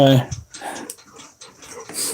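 A dog comes into a room indoors, panting with quick, soft breaths and brief whimpers, close to the microphone, with a person talking at the start.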